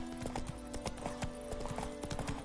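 Roach the horse trots in The Witcher 3, a rapid, even clip-clop of hooves close up over a low steady game-world hum.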